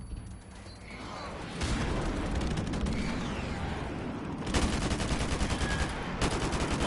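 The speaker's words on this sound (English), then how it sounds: "Friendly airstrike on the way." Friendly airstrike explosions in Call of Duty: Modern Warfare Remastered come as loud, dense, continuous booming and crackling mixed with gunfire, swelling in heavier bursts near the middle and end.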